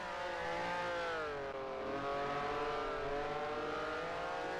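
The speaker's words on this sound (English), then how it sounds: "I hear a car. It may have just spun." Race car engine in a Grand Prix Legends sim racing game, a steady high-pitched whine with harmonics shifting slightly up and down, loud and continuous with no talk over it.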